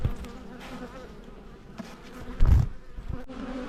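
Honey bees buzz around an opened, smoked beehive, a close, wavering hum with a sharp louder thump or knock partway through.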